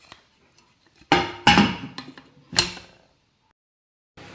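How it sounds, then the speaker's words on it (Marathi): A pressure cooker lid being closed in a home kitchen: several distinct metallic clanks and scrapes, separated by short pauses, close and fairly loud against a quiet background, with one more clink at the end. "आता कुकरचं झाकण करून घेते मी बंद"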